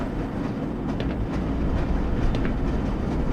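The Black Mesa tram glides along its rails in the video game, giving a steady rolling rumble with faint rhythmic clicks from the track and a continuous mechanical hum, loud and with no voices over it.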